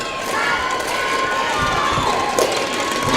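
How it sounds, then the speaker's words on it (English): Basketball fans in a gym applaud and cheer the Lady Panthers bench players, a continuous wash of crowd noise with scattered claps and shouts under a loud, steady roar. "Here the fans giving the Lady Panthers bench players a round of applause"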